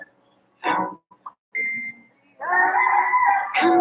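A rooster crows in a few strained, drawn-out calls, separated by short pauses and brief clucks, fairly close in an otherwise quiet setting.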